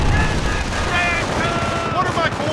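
Rumbling battlefield gunfire and distant booms roll through the Mortain mission of the Company of Heroes strategy game, partly under a voice speaking.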